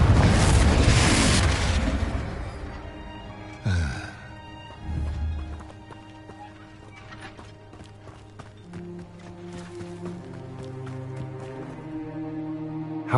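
Confringo blasting spell exploding in Hogwarts Legacy on PS5, a loud burst at the start and another around four seconds, followed by lighter game effects and a low musical bed with no talk.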